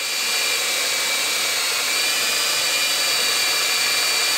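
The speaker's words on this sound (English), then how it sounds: "So now, gotta re-drill these holes." Power drill re-drilling holes through an 80/20 aluminum T-slot part, a steady loud high-pitched whine running continuously from start to finish with no pauses.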